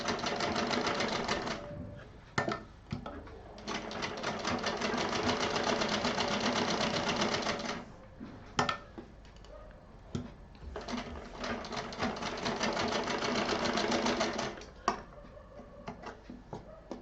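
Sewing machine stitching a fabric multi-storage pouch, running in long steady bursts of rapid needle chatter with short pauses between seams.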